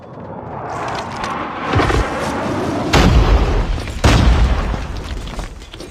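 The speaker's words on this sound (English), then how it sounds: "Friendly napalm deployed." Napalm strike and airstrike blasts in a military shooter video game, a loud rolling roar of fire and rumble with three heavy booming bursts landing about a second apart, continuous and dense with no voices.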